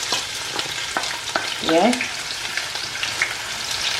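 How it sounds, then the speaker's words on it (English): Onion frying in a pan for a Ghanaian red snapper stew, a steady close sizzle with scattered stir clicks and a brief scraping swirl midway, with one short word spoken. "I'm going to start my frying onion."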